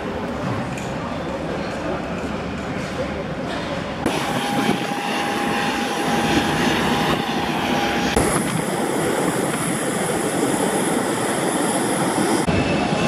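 A passenger airliner's engines roar in a steady, loud broadband drone inside the cabin during a flight of 1 hour 40 minutes, with a cabin announcement heard over it.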